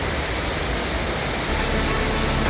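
Arpana waterfall near a village in Rayagada gives off a constant, even wash of falling water that fills the whole clip as a dense, unbroken hiss, with no voices.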